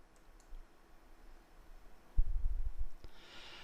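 A single computer mouse click on a history page, a faint sharp click that stands alone in a quiet room.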